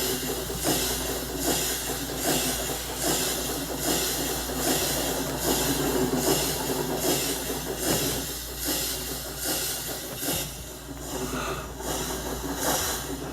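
A Minecraft train runs along rails in a rail system, a steady loud rolling rumble with hissing and rhythmic clacking pulses throughout, no talking over it.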